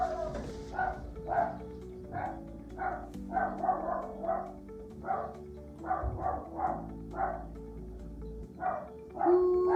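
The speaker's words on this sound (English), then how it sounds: "Let us in in the comments your guesses on what my dog is barking at" A pet dog barks repeatedly in short, fairly loud bursts at an uneven rhythm inside an RV, with a steady low hum underneath throughout.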